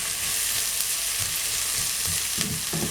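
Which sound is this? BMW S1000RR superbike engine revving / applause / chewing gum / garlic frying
garlic frying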